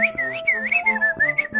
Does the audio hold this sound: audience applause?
no